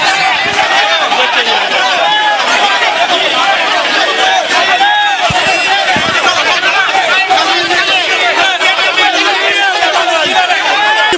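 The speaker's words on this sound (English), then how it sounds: "The crowd chanted 3 years, 3 years as the bus conveying them leaves the court premises." A large crowd chants outside a court while a bus carrying the accused drives off the premises. The voices form a dense, steady, loud roar of overlapping shouting that carries on throughout without pause.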